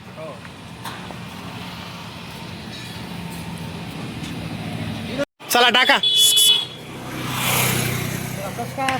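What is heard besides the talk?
customer's vehicle arriving with engine running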